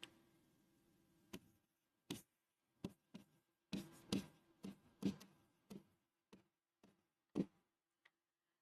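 Chalk or marker strokes writing the word carotenoids on a board during a botany lecture on photosynthesis, a string of separate short scratchy taps and strokes with brief gaps, close and fairly clear against near silence.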